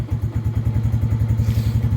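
Lifan King motorbike engine idling lumpily while cold, a steady close chugging pulse of uneven low thumps with slight mechanical clatter, running alone without talk.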